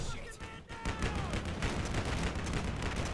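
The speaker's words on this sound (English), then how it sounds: "That's grenades." Grenade explosions in the Combat Mission Black Sea wargame, a dense rumbling crackle of blasts and gunfire-like bursts that goes on steadily, loud and close, with no voices.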